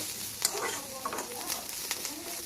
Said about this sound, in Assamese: অকণমান সময় লৰাব লাগিব